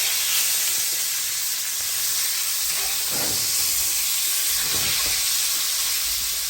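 Butter sizzles loudly and steadily in a hot pan of pork chops, a constant close hiss with a few brief surges.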